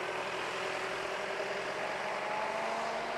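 Tractor engine running steadily at medium distance while it backs up, a continuous low mechanical drone with no voices.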